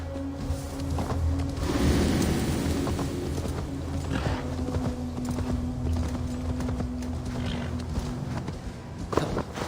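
Horse hooves clop in a steady, brisk rhythm on the ground in the video game Assassin's Creed Valhalla, close and continuous with a soft ambient wash behind them.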